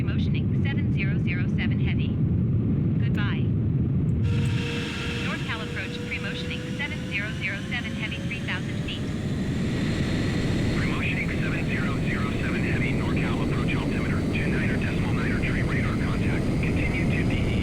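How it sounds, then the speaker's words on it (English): A B-2 Spirit's steady jet engine roar in a flight simulator fills the cockpit, dropping in intensity partway through as the engine slows, with chirpy radio-like tones and cockpit noise over it. "As soon as I set the speed, you can hear the engine slowing down."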